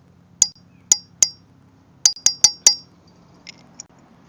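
A knife tapping against a glass vessel while flakes are added to a solution, giving about seven sharp, close glassy clinks in an uneven rhythm, followed by two fainter ticks.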